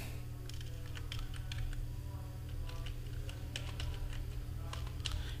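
A Wi-Fi password is typed on a computer keyboard in bursts of quick, close key clicks over a steady low electrical hum, with no talk.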